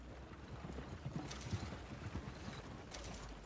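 Horse hooves clip-clop in a steady trotting rhythm within the video game Red Dead Redemption 2, quiet and fairly close, over a faint ambient bed.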